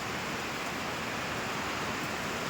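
Heavy typhoon rain falls steadily as a dense, even hiss with no breaks, close and fairly loud throughout. No voices are heard.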